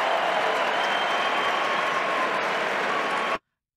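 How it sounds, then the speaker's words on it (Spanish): A rally crowd breaks into loud, sustained applause and cheering, a dense stadium-like ovation that holds steady for over three seconds before cutting off abruptly. "ovación casi de estadio"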